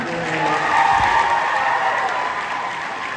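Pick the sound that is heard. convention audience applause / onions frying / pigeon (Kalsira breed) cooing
convention audience applause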